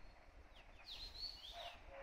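Faint, scattered bird chirps and whistles over a quiet forest hush after rain in early summer, distant and soft.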